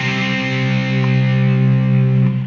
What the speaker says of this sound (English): Then you've got the old Ibanez Smashbox, which gives you a sound that is of no use in worship settings whatsoever because it's too metal.